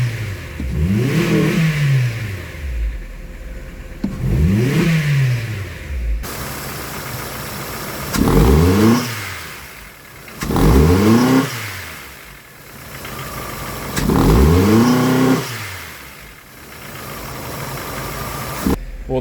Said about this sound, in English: All right, let's snap throttle, see if it changes.